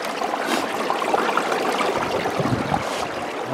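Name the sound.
water of a small stream flowing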